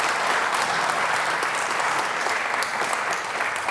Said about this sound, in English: another round of applause for Lichfield District Council and Burntwood Town Council